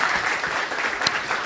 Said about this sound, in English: I think our panel deserves a round of applause.